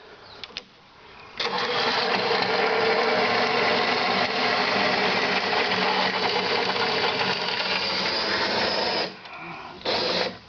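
Cordless drill spinning a soap-lubricated threaded rod to tilt the blade on a Makita MLT100 table saw; a steady, loud whirring drive runs about seven seconds without pause, with brief starts and stops at either end.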